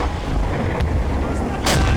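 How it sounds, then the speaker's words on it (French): Ship's cannon fire in the Silent Hunter 5 naval submarine game: a dull, continuous rumble with two short, sharp booms, the second louder and near the end, under steady low background noise. "C'était encore un navire protégé par des canons."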